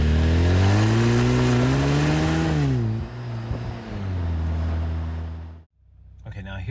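A Jeep Wrangler JL with an aFe Mach Force-XP Hi-Tuck axle-back exhaust revs up with a rising, then falling, deep throaty roar, settles to a rumbling idle, cuts out briefly, then returns.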